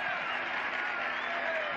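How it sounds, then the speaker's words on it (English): A stadium crowd at a women's Liga F football match between Real Madrid and Granadilla Tenerife gives a steady, distant wash of applause and crowd noise, with commentary over it. "A round of applause for Linda Caicedo."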